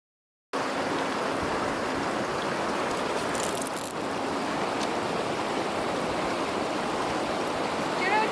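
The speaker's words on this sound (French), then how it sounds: "Que l'eau de la rivière est propre." Clear river water at Numa Creek rushes in a steady, full broadband roar that starts abruptly and holds without pause, close and loud throughout.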